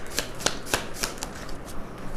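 Tarot cards being shuffled up close, a series of about seven quick riffling flicks in an uneven rhythm, fairly soft with no voice.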